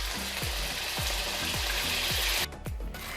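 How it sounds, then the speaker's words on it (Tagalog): Beefsteak slices for Bistek Tagalog frying in a pan: a steady, close sizzle fills the background, punctuated by several clacking knocks of a utensil against the pan. "So I think we're ready to fry."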